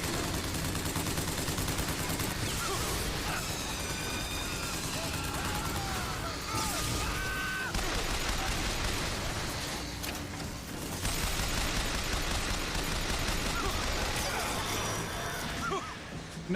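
Many enemies firing at once in Bioshock Infinite: dense, loud, continuous gunfire with overlapping bursts, crashes and impacts, a packed game battle mix throughout.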